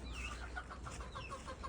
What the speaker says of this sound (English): I'm about to let the chickens out.